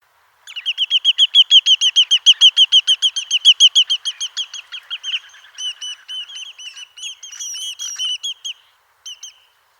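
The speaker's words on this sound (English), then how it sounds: "the first recording started with a long series of one-note calls. That was a lesser yellowlegs" A lesser yellowlegs gives a long rapid series of clear one-note calls, loud and close, then slower scattered notes trailing off, with no other sound behind it.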